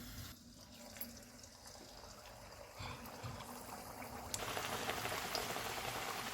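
Puri dropped into hot oil on a lowered stove for aloo puri, with a soft steady bubbling and hiss that swells into a louder, brighter sizzle partway through.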